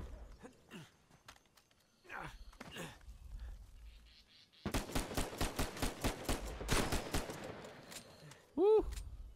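Gunfire in an Uncharted 4 multiplayer match starts with a few scattered shots. A dense run of rapid, loud reports follows midway, then a brief ringing tone closes the passage. Faint voice sounds appear early on.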